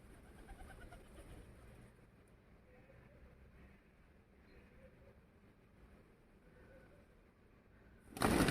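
Wild pigeons coo softly while pecking at scattered feed, low murmuring calls running under a faint background hum, ending in a sudden loud burst of noise.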